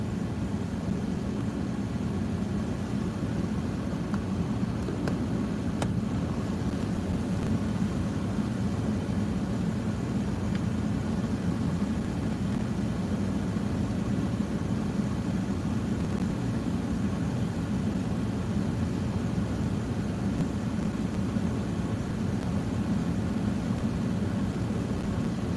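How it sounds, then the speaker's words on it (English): Heavy rain drums steadily on the roof of a car during a storm in Norfolk, a constant dense low rumble with no let-up and no voices. "You must be able to hear that rain just thumping on the car."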